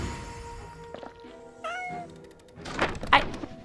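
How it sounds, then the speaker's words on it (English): A cat meows close by, a rising then falling plaintive call, followed by a couple of louder, harsher cries and a dull thunk, over faint background sound. "I hear you, little kitty."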